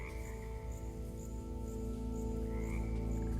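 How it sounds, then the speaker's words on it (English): A frog croaks in a Minecraft lush cave, a faint rhythmic call over a low, steady ambient cave drone. "Just listen to this atmospheric cave sounds and that frog croaking."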